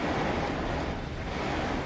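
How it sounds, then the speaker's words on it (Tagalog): Strong typhoon wind and heavy rain batter a parked truck, a dense, loud, unbroken roar with gusting turbulence and no pauses. "Sobrang lakas ng hangin at ulan."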